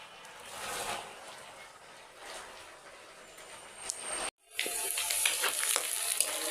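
Leaves fry in a hot pan with a steady, soft sizzle and crackle, broken by a short pause before a louder, brighter burst of frying, close by and without talk.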